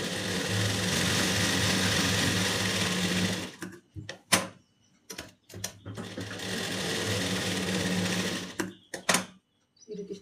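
A sewing machine stitches a lining piece onto a blouse in two steady whirring runs of a few seconds each, close and loud, separated by brief clicks and handling sounds.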